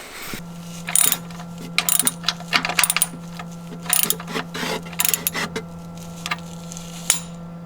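A ratchet works the oil drain plug on a BMW M4, giving repeated bursts of crisp metallic clicking at close range in an uneven rhythm, with no talking.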